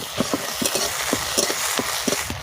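Garlic paste added to browned onion in white oil and stirred, for a spicy crab curry, sizzles softly in the pan while a spoon scrapes in a steady rhythm of short strokes.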